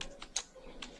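Quick keystrokes on a computer keyboard while creating a Word document, a few light, close taps in under a second.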